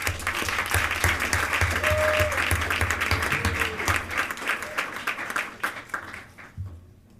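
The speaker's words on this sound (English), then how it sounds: "Please give them another round of applause." People in the audience at a school district Board of Education meeting applaud staff with loud, sustained clapping that thins out and fades near the end.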